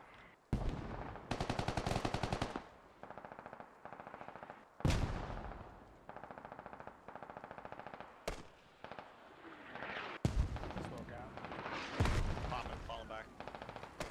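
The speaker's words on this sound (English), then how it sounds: "Inquisition got hit by a mortar." Heavy weapons fire in Squad, with mortar strikes among them: rapid bursts of loud shots in repeated strings, broken by sharper booming impacts, with people talking over the fire.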